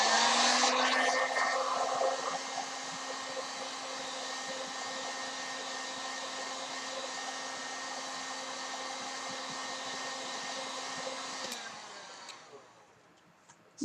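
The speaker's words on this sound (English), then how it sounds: "we're going to heat it up again with the heat gun" A heat gun blows steadily and loudly on Worbla thermoplastic laid over craft foam, a constant airy roar that holds for about eleven seconds before cutting off into near quiet.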